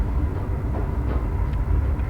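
An Intercity VIRM Dutch double-decker train rumbles along toward Den Helder, a loud, steady low-pitched rolling drone with faint clicks of wheels over the track. No one speaks.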